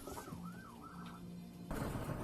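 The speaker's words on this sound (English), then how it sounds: "Oh, it's a police car!" A police car siren wails in rising and falling sweeps, fairly close and clear, then gives way to a burst of louder broadband road noise at the end, with no talking.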